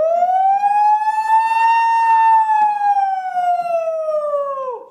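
A single long vocal siren imitation, one sustained rising-then-falling wail with a strong, resonant tone, held for several seconds before dropping off sharply.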